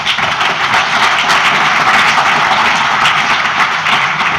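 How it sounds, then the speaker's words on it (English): A conference audience claps after a talk on Cloud Foundry and Kubernetes, a dense, steady wash of applause sustained for several seconds with no pause. "First, definitely have a round of applause"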